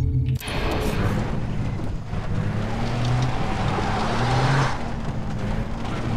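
A vehicle drives along a road in Far Cry 3, its engine droning steadily with wind-like rushing noise throughout and slight rises and dips in pitch, loud and continuous.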